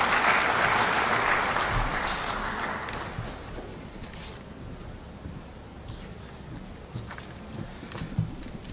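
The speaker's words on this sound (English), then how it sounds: "Shall we welcome him with a clap?" An audience at a financial-year audit launch event claps in welcome, a short burst of applause that fades out after about three seconds and leaves quiet room noise.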